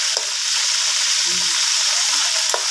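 Pork frying in hot oil for a Lao-style grilled meat and papaya salad meal, giving a steady, loud broadband sizzle with a few faint clicks and a low murmur of a voice in the background.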